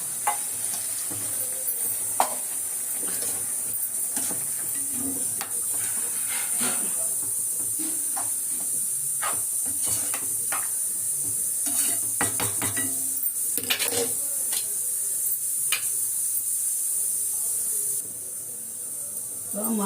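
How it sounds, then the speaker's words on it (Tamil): Steady hissing and bubbling of a pot of mutton boiling in water on the stove, with occasional clinks and stirring clatter throughout. "மட்டன் நல்லா வெந்துட்டு இருக்கும்,"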